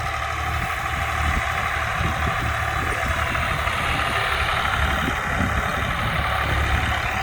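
Tractor engine running steadily with a seed drill hitched behind, loaded with wheat seed and DAP fertilizer, during sowing in a field; a continuous low rumble, fairly near, with no talk.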